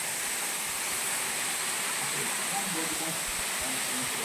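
Several small waterfalls at Pinsal Falls in Lupao, Nueva Ecija pour shallow, clear water in a loud, steady hiss and rush that stays unbroken and close throughout.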